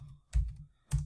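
Two sharp keystrokes on a computer keyboard, the second a firm Enter key press, each a close, distinct click separated by a short pause in a quiet room.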